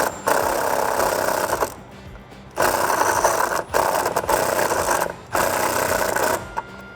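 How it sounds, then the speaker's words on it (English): A 10mm socket tightens a nut on a bolt while a C&L oil catch can is installed on a Ford F150, giving three bursts of rapid, close ratcheting clicks separated by short pauses. "next I'm gonna grab a 10mm socket and tighten this guy down"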